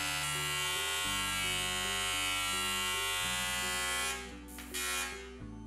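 An EWM Tetrix 230 AC/DC TIG welder with argon shielding and a 2.4mm zirconiated tungsten lays a 3mm fillet weld on 3mm aluminium plate, giving a loud, steady, harsh electric buzz that shifts pitch and cuts out near the end.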